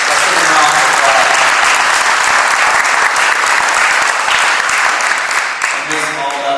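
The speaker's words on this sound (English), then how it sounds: "Let's give them a round of applause." A crowd at an intermediate school Veterans Day program breaks into loud, sustained applause that fills the room, with a voice briefly audible over it as the clapping begins to taper.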